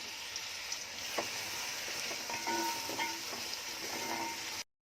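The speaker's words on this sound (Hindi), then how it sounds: "उसमें अब गरम किया तेल और प्याज डाल" Onions frying in hot oil in a pan while cooking a Konkani prawns and peas pulao, giving a steady, close crackling sizzle with a few sharp pops and spatters throughout. No one speaks.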